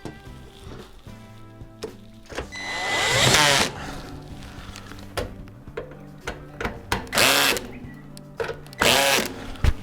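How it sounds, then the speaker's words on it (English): Screws on the left door hinge of a Kenmore oven being tightened, heard as several short, close whirring bursts separated by quieter handling clicks and rattles. "After installing all 4 screws, you can go back around and tighten them all."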